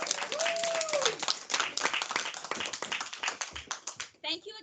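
An audience claps for students at a stop-motion animation film festival, brisk sustained hand clapping with a whoop at the start, thinning out before a voice speaks at the end.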